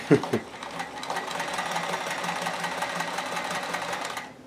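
A Kenmore 158.1040 portable sewing machine runs a zigzag stitch in one quiet, steady whirring run after a few opening clicks, then slows to a stop at the end.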